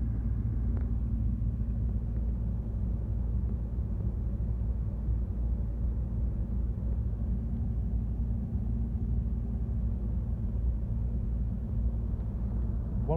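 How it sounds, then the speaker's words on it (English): A Dodge engine idles roughly, a steady low rumble droning without pause throughout, close and fairly quiet, with no talk over it. "at least the Dodge is running kind of"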